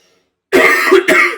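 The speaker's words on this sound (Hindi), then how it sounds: "थोड़ी खांसी बहुत हो गई है इसलिए बीच में डिस्टर्बेंसेस आ रहे हैं।" A brief throat clearing followed by a short cough, close and loud, two bursts after a moment of silence.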